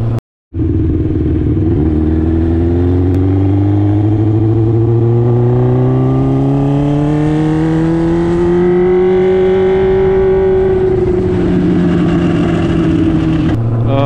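A Honda CBR1000 sportbike rides past, its engine droning loud and close with a steady tone that rises and falls as the bike goes up and down. The engine fills the clip with no speech.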